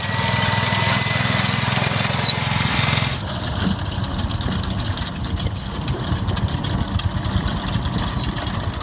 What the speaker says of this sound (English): Tractor thingo.